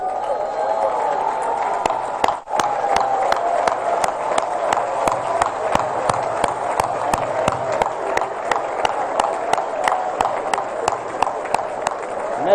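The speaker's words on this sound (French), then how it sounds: "je vais vous prier une fois de plus de vous lever et d'applaudir pour le président Yahya" Sustained audience applause at a football federation inauguration ceremony, dense steady clapping from a large crowd with a regular rhythmic beat running through it, loud and continuous.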